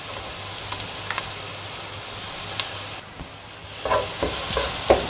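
Ginger garlic paste sautés in a pan for spicy potato gravy, giving a steady close sizzle with soft stirring scrapes and a few sharper clinks and pops toward the end.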